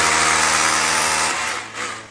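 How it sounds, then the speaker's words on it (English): A power drill with a concrete bit bores into a concrete wall of a commercial building, giving a loud, harsh grinding whir that holds steady and then eases off near the end. "Now I can drill with my concrete bit."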